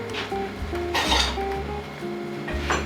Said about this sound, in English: We mix the carrot with the radish.